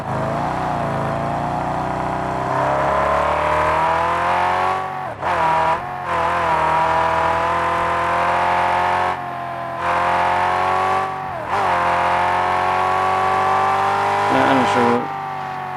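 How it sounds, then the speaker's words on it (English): A truck engine in the Mad Max video game roars loudly and continuously, with rising and falling revs, tyre noise and brief dips, while people talk over it. "I don't know why this truck, of all of them, is just stupid loud."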